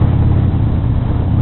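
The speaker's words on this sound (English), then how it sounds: "it's obvious from this sort of noise that I'm riding a Harley Davidson" A Harley-Davidson motorcycle engine rumbles steadily and loudly while riding, with a deep, continuous low throb and rough wind-buffeted noise throughout.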